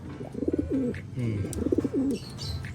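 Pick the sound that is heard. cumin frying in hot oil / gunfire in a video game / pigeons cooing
pigeons cooing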